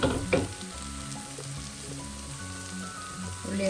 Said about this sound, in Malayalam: ഉള്ളിയൊക്കെ ഒരുവിധം വഴഞ്ഞിട്ടുണ്ട്.